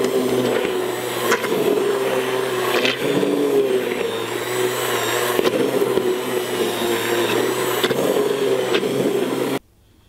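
A blender purées tomatoes, peppers and chilies with skins and seeds left in, a loud steady whirring drone lasting about nine seconds before cutting off abruptly.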